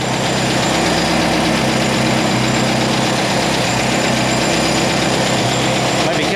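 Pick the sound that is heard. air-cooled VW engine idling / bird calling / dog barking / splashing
air-cooled VW engine idling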